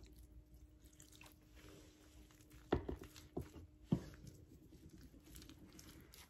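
Warm water poured into homemade bolillo bread dough lands as a few faint, separate drips and splashes, close but very quiet, with no talk.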